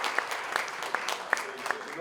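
Applause at an online journalism event honouring war correspondents, a short stretch of scattered, fairly faint claps from a modest crowd.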